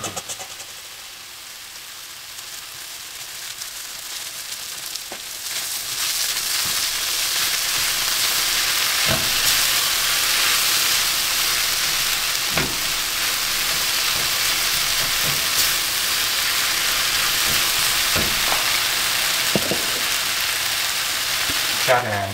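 Lamb and onions frying in a pan for shepherd's pie, a steady sizzling hiss that swells after the meat goes in, with occasional clicks and stirring knocks throughout.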